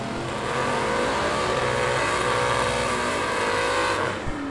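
Two drag race cars, a Chevy II and a 1981 Pontiac T1000, launch hard off the starting line at a bracket nationals event, engines roaring loud and steady for several seconds before cutting off abruptly.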